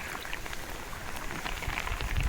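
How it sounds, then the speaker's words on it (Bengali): Rain falls steadily during a low-pressure downpour, with waterlogged ground all around; a soft, even hiss of drops on surfaces persists throughout, fairly faint and continuous. "অনেক অনেক বৃষ্টি"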